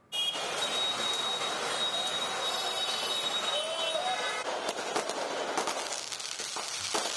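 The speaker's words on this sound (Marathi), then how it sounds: "तिकडे फटाक्यांची आतषबाजी करण्यात आली" Dense, continuous crackling of fireworks set off to celebrate the Mahayuti government's oath-taking ceremony, with sharper bursts toward the end over a steady roar of background noise.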